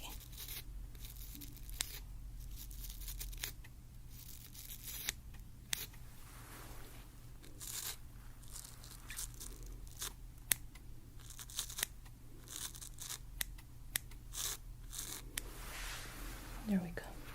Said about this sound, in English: what we're gonna do is use our scissors in that area